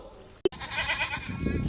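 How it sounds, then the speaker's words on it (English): Goats roaming the deserted streets of a town in Wales bleat, with a clear goat call and a brief sharp noise among low street sounds and bits of voice. "The goats are taking over, roaming the deserted streets"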